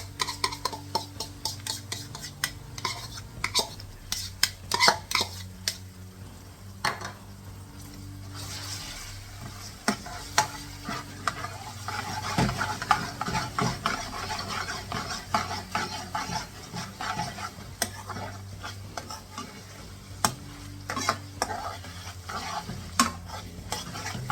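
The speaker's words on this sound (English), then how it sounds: "So after burnering off for 3 to 5 minutes, all your vegetables and chilies, add your ginger garlic paste." Ginger garlic paste frying with vegetables and chilies in a pan over high heat, steady sizzling throughout with repeated scraping stirs and utensil clicks against the pan, close and alone with no talking.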